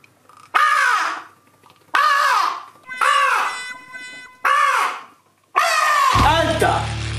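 A human voice imitates a crow's caw, giving five loud, drawn-out nasal calls in a slow, uneven series with short pauses between them, close and clear.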